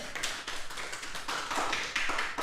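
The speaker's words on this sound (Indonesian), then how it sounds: "tepuk tangan Pak Mikil" An audience claps for Pak Mikil at a televised talk show in Banyuwangi, producing a dense, moderately loud patter of hand claps lasting a couple of seconds, with no voices over it.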